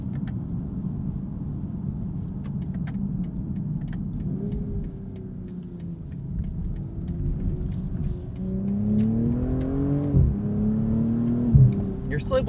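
A 2022 BMW M240i engine revs and climbs in pitch as it accelerates hard on launch control, rising through gears with a deep, growling rumble.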